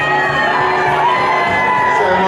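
A live rock concert crowd shouts, whoops and cheers continuously at close range, a dense wall of many voices with no pause.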